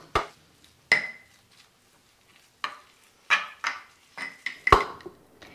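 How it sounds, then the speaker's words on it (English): Spoon stirring vegan Bloody Mary butter with hot sauce drops in a bowl: irregular, close clinks and scrapes against the bowl, separated by short pauses, with no voices. "And we mix it."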